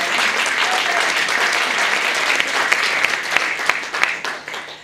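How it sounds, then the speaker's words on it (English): An audience at an Inauguration Day rally in Monterey applauds a local poet: a loud, dense wash of clapping throughout, with a few sharper claps standing out near the end. "Let's clap for him."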